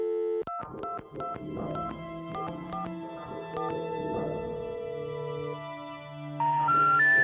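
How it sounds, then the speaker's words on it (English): In the video game Shivers 2, a rapid string of telephone keypad tones beeps out a number, each press short and distinct, followed by longer held electronic tones. "How about we try to call Pearl?"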